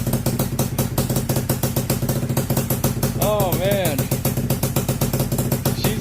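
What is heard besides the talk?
Honda FL250 engine idling after cold start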